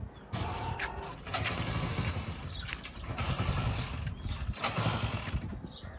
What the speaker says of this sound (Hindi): बाइक स्टार्ट करते हैं